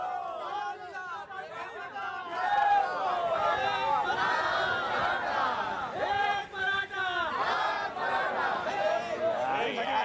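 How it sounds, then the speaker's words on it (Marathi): A crowd of Maratha activists in Thane celebrates the announcement of the Maratha reservation, with dense overlapping shouts, cheers and chatter that stay loud and continuous throughout. "ठाण्यात देखील मराठा बांधवांनी एकच जल्लोष केलाय."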